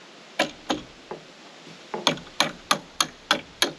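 A hammer taps a cable railing fitting through a drilled 3/8 inch hole, a run of about ten sharp metallic knocks, sparse at first then quickening into an even rhythm near the end.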